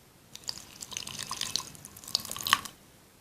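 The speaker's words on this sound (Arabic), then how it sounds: "نحط لها شوية مية دافيين،" Warm water being poured onto yeast and a spoonful of sugar in a bowl, heard as soft dripping and trickling splashes that build to a brief louder splash near the end.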